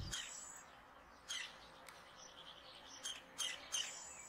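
A field flicker woodpecker gives a few short, faint chirping calls in open rural countryside, spaced out against a quiet background.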